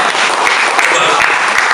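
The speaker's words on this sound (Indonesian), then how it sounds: "Tepuk tangan semuanya." Applause from an audience at an Indonesian political gathering for legislative candidates in Depok, a steady dense wash of clapping filling the whole short stretch with some talk mixed in.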